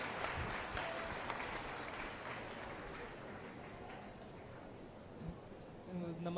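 Applause from the audience at a live youth-dialogue event in Jaipur with the Chief Minister, a steady dense clapping wash that holds for several seconds at moderate level, with faint voices mixed in.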